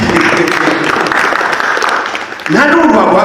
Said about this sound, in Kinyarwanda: Ababyumvise babiri bakoma amashyi.